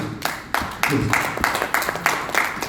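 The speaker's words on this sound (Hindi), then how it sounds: "एक जोरदार ताली इनके लिए" An audience at a business seminar claps for a participant, with sharp, distinct hand claps landing at fairly regular intervals and holding a moderate level throughout.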